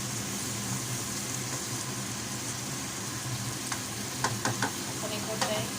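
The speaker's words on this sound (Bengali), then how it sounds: "এখন ডিমটার সাথে খুব ভালোভাবে নেড়ে চেড়ে লাউটাকে মিশিয়ে দিচ্ছি" Bottle gourd and egg stirred in a pan over low heat, a soft continuous sizzle with spatula scrapes and a few sharp clinks toward the end, no talking.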